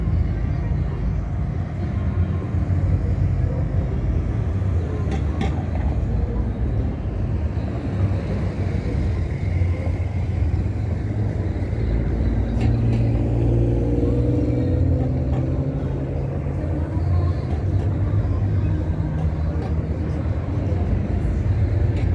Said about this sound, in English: you see the car traffic pulling through.